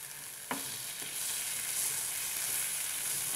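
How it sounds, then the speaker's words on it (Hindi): Chopped tomatoes frying with onion and salt in a hot pan, with a soft, steady sizzle and a brief clack of a spoon near the start, close and moderately quiet. "इसे भी प्याज के साथ मिक्स करेंगे और फ्राई करेंगे."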